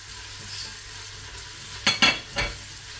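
Onion and garlic dropped into hot oil for braised pork cheeks in sauce, a quiet low hiss followed by a few sharp clattering stir strokes near the end.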